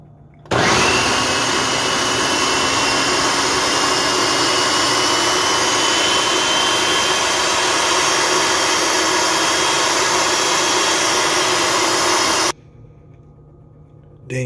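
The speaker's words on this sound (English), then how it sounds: "Then you're gonna blend it again because you're gonna turn this into hummus." A blender whirs loudly and steadily for about twelve seconds, pureeing quinoa and chopped red onions into hummus, starting abruptly and cutting off just as suddenly into near quiet.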